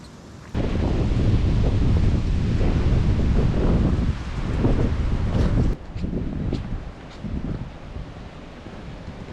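Heavy wind buffets the microphone in loud, rumbling gusts on a mountain trail overlooking Lake Superior, easing somewhat toward the end.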